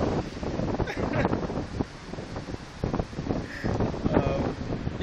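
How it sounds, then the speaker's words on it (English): Strong wind roars and buffets the microphone in continuous gusts during a major rainstorm, with a broad rushing noise that surges and eases over a few seconds. "It's very, very windy."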